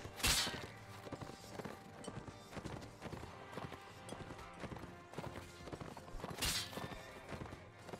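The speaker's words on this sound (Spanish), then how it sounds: "Sabía que iba a caer el caballo." A horse gallops in Mount and Blade Warband: a steady run of hoof clip-clops over battle noise, with loud crashing impacts at the start and again near the end as the horse goes down; no talking.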